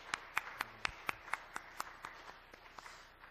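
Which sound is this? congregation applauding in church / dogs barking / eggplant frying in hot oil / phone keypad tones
congregation applauding in church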